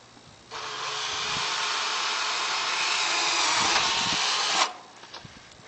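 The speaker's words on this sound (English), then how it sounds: "I'm screwing into that frame that the old vent used to be in." A power drill driving a screw into the wooden frame of an old vent during a vent retrofit, one sustained loud whir for about four seconds that stops abruptly, with a few light knocks after.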